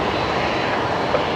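A Qantas Airbus A330 arriving produces a brief, steady broadband rumble of jet engines at moderate level, with no talking.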